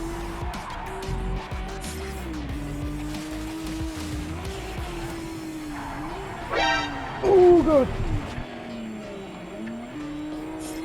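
Race cars in Project Cars 3 roar under a steady engine drone, then tires squeal and skid sharply around the seven-second mark before the engine settles again; a voice briefly exclaims during the skid.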